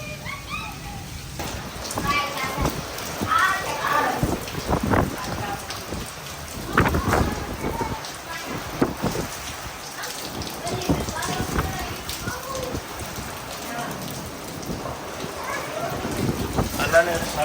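Heavy rain pours down on a Pathan village with rolling thunder and gusting wind, a dense steady roar throughout, with voices faintly in the background.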